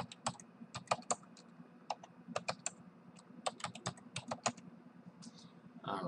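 Fingers typing on a computer keyboard, with irregular bursts of crisp, close key clicks separated by short pauses, and no voices.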